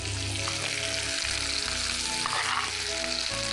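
Onions and tomatoes sauté for valaithandu neer sambar, a steady, loud, close sizzle of frying in a pan that carries on without a break, with no voices.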